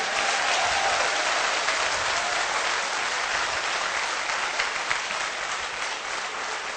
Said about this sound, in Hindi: तालियां बजानी है तो तसल्ली से बजा दो